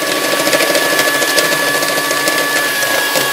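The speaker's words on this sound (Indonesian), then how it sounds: "Saya mixer lagi." An electric hand mixer runs steadily and loud, beating mung bean dough with egg yolk for snow-white cookies, a continuous whirring motor with a faint high whine and no pauses or talking.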